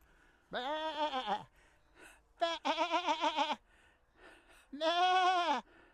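Sheep bleating close by in a field near Stonehenge, three long wavering bleats with quiet pauses between, the middle call loud and shaky, no talk.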